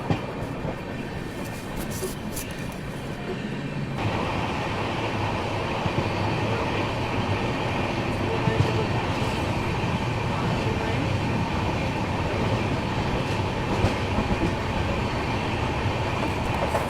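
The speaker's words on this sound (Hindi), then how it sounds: "फिलहाल सामने से आ रही है पुणे सोलापुर हुतात्मा एक्सप्रेस" The Pune–Solapur Hutatma Express rumbles past at close range with a steady, loud roar of wheels on rails and a faint clickety-clack that carries on without pause.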